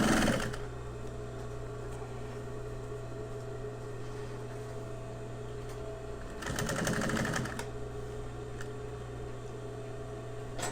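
A sewing machine runs a long, continuous stitch across an elastic PALS panel filler, with a steady close mechanical whir that briefly grows louder and busier partway through.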